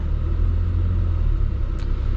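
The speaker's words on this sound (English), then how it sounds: "And the engine's smooth too" A 2025 Ford Expedition Activ V6 running smoothly at low revs, heard from inside the well-insulated cabin as a steady, low, even rumble with no other sounds.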